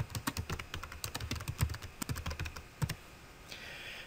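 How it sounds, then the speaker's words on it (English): Fingers type on a computer keyboard in quick, uneven bursts of close key clicks, pausing briefly before a final few taps, with no talking. "So now we just type in our note."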